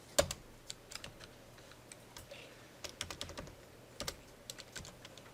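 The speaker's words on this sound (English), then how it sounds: "I'm just typing this into the shell now, not into a program." Python code being typed into an interactive shell on a computer keyboard: a steady run of close, crisp key clicks in uneven bursts, with short pauses between groups of keystrokes and no talking.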